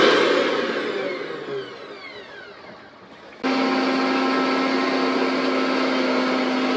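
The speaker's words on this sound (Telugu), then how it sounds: "దీంట్లో కొంచెం వాటర్ పోసుకొని మిక్సీ పట్టుకోండి" A loud, steady mechanical whir of a mixer grinder blending mango with water, easing off and then jumping back to a strong, constant drone with a pronounced hum.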